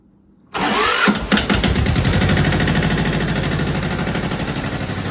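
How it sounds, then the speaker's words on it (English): A tractor engine cranks briefly and catches after a moment of quiet, then settles into a loud, steady, close-up idle with a rhythmic diesel-like chug. "you should never stand in front of the tractor tire when you're starting it"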